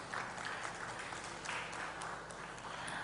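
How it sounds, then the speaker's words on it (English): Audience applause for speakers at an education and government innovation conference in India, a steady dense wash of clapping throughout at moderate level with no talk over it. "A round of applause for our speakers,"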